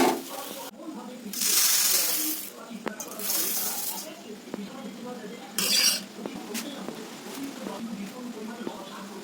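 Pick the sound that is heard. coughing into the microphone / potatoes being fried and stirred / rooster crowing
potatoes being fried and stirred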